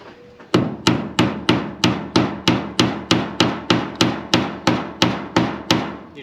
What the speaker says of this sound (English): And when you hammer these in,